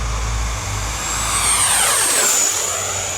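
A Thunderbird model jet sweeps past with a loud, rising-then-falling turbine roar, its high whine bending downward as it passes close and recedes within a few seconds.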